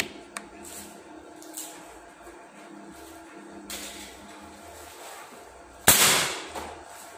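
An air rifle with a size-25 tank fires a single sharp crack at a kapok pod about 65 meters away outdoors, a loud broadband burst near the end that follows quieter ambient rustle.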